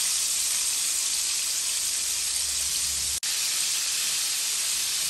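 Chicken pieces fry in hot oil with a loud, steady hiss and sizzle that continues without a break apart from one brief cut-out, and no voices are heard.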